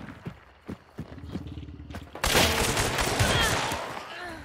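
A gunshot from the Western shooter Hunt: Showdown cracks loudly partway through, erupting into a dense burst of fire over earlier hoofbeat-like thuds, with faint voices in the background.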